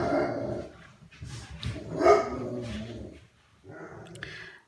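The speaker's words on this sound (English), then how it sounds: "That is my dog." A dog barks and whines in a few uneven, throaty bursts nearby in a home, fairly loud, with no talk over it.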